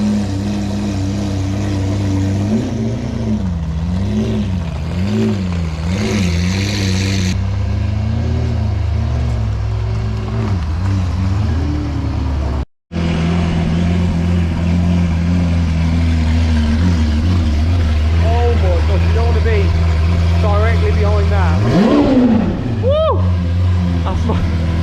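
A Liberty Walk Lamborghini Aventador pulls into an enclosed bay, its engine droning and rising in repeated revs that climb to a loud, sharp peak near the end, with people talking throughout.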